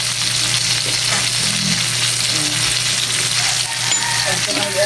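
Tomatoes fry in a hot pan with a loud, continuous sizzle while a spoon scrapes and clinks as the pieces are stirred and tossed.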